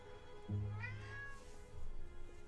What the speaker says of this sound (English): You get to listen to the kitty screaming.